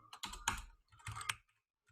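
Keys clatter on a computer keyboard in two quick, quiet bursts of clicks separated by a short pause.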